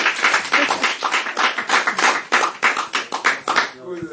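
A small audience at an evening gathering claps in a quick, uneven patter of separate hand claps that fades out near the end.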